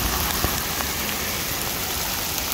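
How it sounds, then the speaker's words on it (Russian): A tropical downpour hammers a Vladivostok street, dense steady rain pattering loudly on surfaces with occasional sharper drops, no voices. "какой тропический ливень у нас в городе нарисовался"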